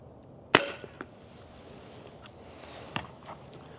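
Umarex Strikepoint pellet gun fired outdoors at a 2x4, one sharp, loud crack followed by a few lighter ticks and a fainter impact-like snap a couple of seconds later, with no talking.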